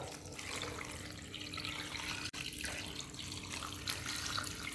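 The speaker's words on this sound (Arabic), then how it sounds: "من بعد ما دخلنا القطع داخل الطنجره دوكا نسكبوا عليهم الماء هكذايا" Water pours steadily into a pot over orange pieces for orange marmalade, giving a continuous close rushing splash with a brief break midway and no speech.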